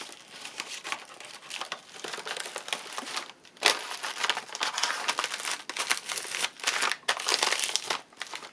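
A paper cover for a lace-themed piece is folded by hand, close crinkling and crumpling in bursts with short pauses and a sharp crease at one point, no speech.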